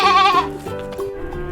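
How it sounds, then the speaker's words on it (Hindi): A single goat bleats loudly and close, a wavering cry followed by softer trailing bleats. "दिस इज गोट यानी"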